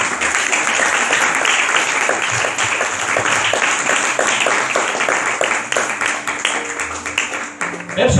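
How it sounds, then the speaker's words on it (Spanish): Loud, sustained applause from a church congregation, dense clapping filling the whole stretch with no break. "Vamos a dar un fuerte aplauso aquí"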